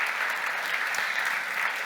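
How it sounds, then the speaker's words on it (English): Steady, dense applause from an audience at a panel event, a continuous even wash of many hands clapping together with no voices over it. "A big round of applause for the wonderful team at Klarna"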